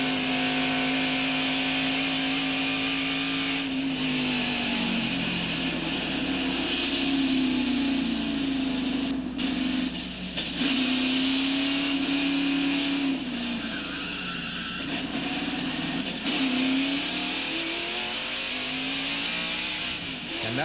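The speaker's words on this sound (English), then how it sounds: "Now, a replay of the crash from Dale Jarrett's in-car camera." A NASCAR Winston Cup stock car's V8 engine heard from the in-car camera at the 1991 Miller Genuine Draft 500 during a crash, loud and continuous with pitch swells and drops as the car slows, with tire squeal.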